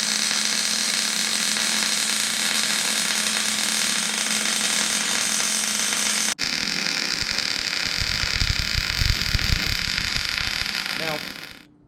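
Welding a sleeve onto a Dana 60 axle during a one-ton axle swap gives a continuous, loud crackling hiss close by, broken by a brief pause before it resumes and dies away.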